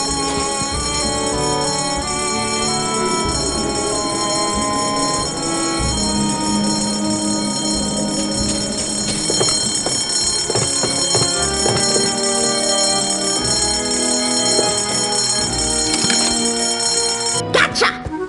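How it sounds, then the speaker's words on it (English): A fire alarm bell in Escape From Monkey Island rings on and on, loud and metallic, above game music and voices. "False fire alarms cost lives."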